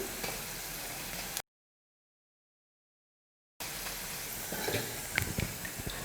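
Bread pakoda pieces deep-frying in hot oil give a steady close sizzle and hiss, broken by a stretch of total silence in the middle, then resuming with a few sharper crackles and pops.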